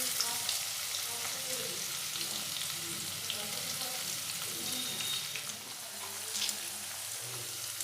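Chopped onion fries in hot oil for Bengali mutton kosha with a steady, fairly soft sizzle throughout and occasional faint stirring sounds.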